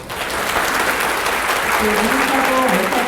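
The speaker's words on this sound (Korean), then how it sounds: "다시 한번 큰 박수 고맙습니다" An audience at a university admissions briefing lecture claps loudly and continuously, a dense steady roar of hands. A voice speaks faintly underneath toward the end.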